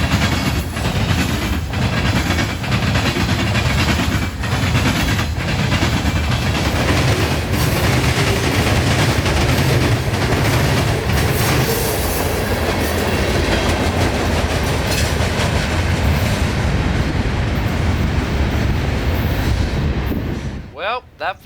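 A long freight train made up entirely of rock-laden hopper cars rolls past at night in Florida, giving a loud, continuous rumble with rhythmic wheel clatter close by until it abruptly fades at the end.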